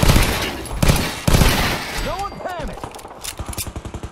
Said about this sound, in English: And shoot pistol.